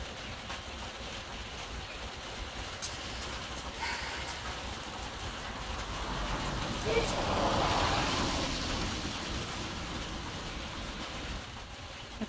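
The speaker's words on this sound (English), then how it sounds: "Another rainy day." Steady rain falls outdoors on a rainy day, a continuous broadband hiss that swells slightly midway, with faint traffic-like rumble underneath and no clear talk.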